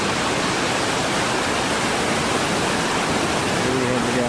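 Steady broadband rush of the Colorado River flowing, loud and continuous like rapids nearby, with no clear breaks.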